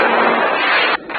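Gunfire in the Max Payne Mobile video game: a dense, roaring blast of shots lasting about a second, loud and close, cut off sharply then briefly resuming.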